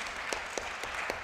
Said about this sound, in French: Je vous propose bien sûr d'applaudir toutes ces nominations, promotions